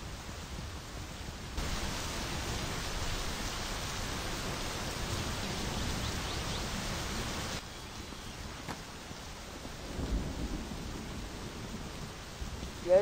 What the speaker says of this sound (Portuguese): A chuva não quer parar, né, mano?